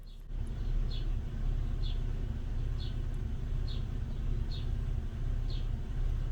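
A 2003 Toyota Tacoma's 3.4L V6 idles roughly with cylinder misfires, a low steady rumble with faint regular chirps or ticks recurring about once per second.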